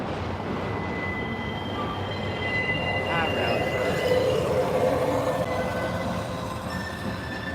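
A CSX freight train rolls past at close range in Chattanooga, a steady rumble of rail cars with faint metallic wheel squeal rising midway, continuous throughout with no pause.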